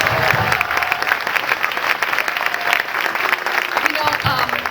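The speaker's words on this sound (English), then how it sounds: "Let's give them a big round of applause again." Steady applause from an audience after a play performance, sustained clapping throughout with some voices mixed in.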